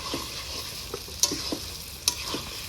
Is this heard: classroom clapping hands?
no